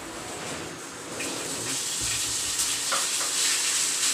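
Food frying in hot oil in a home kitchen, with a steady close sizzle that grows slightly louder partway through as things are stirred, and no talk.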